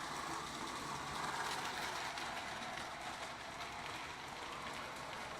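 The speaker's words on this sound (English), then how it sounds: "Now watch this switch throw by itself when the engine comes." A reconditioned Lionel O gauge model train runs on a double reverse layout, giving a steady, close whirring rumble with fine rattling clicks of wheels and track; no distinct switch throw stands out.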